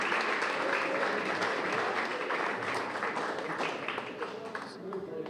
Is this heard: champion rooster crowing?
no